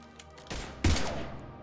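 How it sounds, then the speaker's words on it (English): Gunfire in the video game Mass Effect 3, a couple of sharp loud blasts close together followed by a short ringing decay. "Now open fire!"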